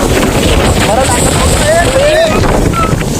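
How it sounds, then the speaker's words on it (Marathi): Loud, steady wind at a dam buffeting the microphone throughout, with faint whistling tones drifting above the rumble. "वारा आहे वारा आहे"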